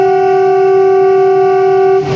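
A train on the Dhari to Junagadh line sounds a loud, sustained horn blast lasting about two seconds, close and steady before cutting off abruptly.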